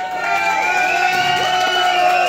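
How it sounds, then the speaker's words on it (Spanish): A Halloween nightclub crowd at El Parián cheering a contest participant, a loud continuous roar of voices and whoops with music tones running underneath. "Ahí está el aplauso para el participante."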